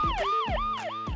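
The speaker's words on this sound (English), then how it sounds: "Police car." Police car siren wailing in a repeating rise-and-fall sweep, about three cycles in quick succession, loud and close with no voices over it.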